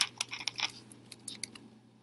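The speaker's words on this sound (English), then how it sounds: "I'm typing this in." Quick bursts of keystrokes on a computer keyboard, close and fairly quiet, tapping in short irregular clusters over a low hum.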